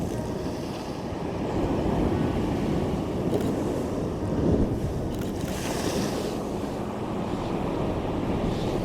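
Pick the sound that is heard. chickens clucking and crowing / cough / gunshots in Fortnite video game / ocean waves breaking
ocean waves breaking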